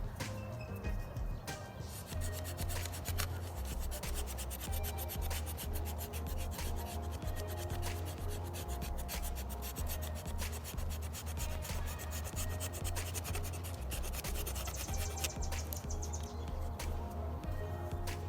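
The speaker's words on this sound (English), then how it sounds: "I'm gonna start scraping away at this, so just pay attention and watch how it gets whiter." Bark is scraped off a mulberry branch with steady, rhythmic rasping strokes, close and continuous, with faint birdsong outdoors in the background.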